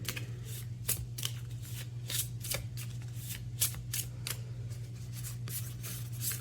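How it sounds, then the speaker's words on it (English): A deck of tarot cards is shuffled by hand at close range, the cards riffling and flicking in quick bursts over a quiet low hum, with no talking. "I'm going to draw 2 of these cards"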